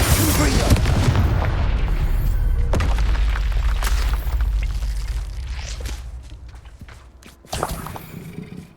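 Loud, booming spell blasts in Hogwarts Legacy, with heavy rumbling impacts throughout, a sharp crack near three seconds and another burst near the end, while game voices call out over the combat.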